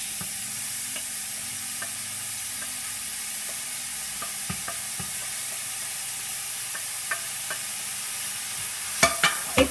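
Spaghetti squash sizzles as it is stirred in a hot pan for a sabji, a steady bright hiss with faint utensil scrapes and a few sharper clanks near the end, no talking.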